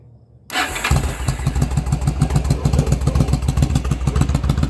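A 2002 Yamaha V Star 1100 motorcycle with a repaired starter clutch and its baffles refitted cranks briefly, then catches and settles into a loud, loping, even idle pulse close by.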